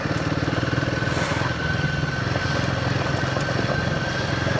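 A Royal Enfield Himalayan 450 adventure motorcycle rides on the road, its single-cylinder engine droning steadily and loud with a constant pulsing rumble and wind noise, no talking.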